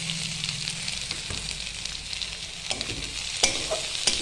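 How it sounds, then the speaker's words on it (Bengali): Chopped onion goes into a wok of frying garlic, dried chillies and nigella seeds in hot oil, and a spatula stirs it through a continuous sizzle, with scattered scraping knocks that sharpen toward the end. "রসুনটা ভাজা হয়ে গেছে, এর মধ্যে আমি এখন দিয়ে দিচ্ছি পেঁয়াজ কুচি।"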